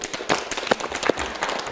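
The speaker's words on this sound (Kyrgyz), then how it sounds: "жалпы биз жолуктук долбоорунун катышуучулары менен бир катуураак кол чаап коелу" An audience at a Kyrgyz television show breaks into brief, moderately loud clapping, a dense patter of hands with a few sharper claps standing out.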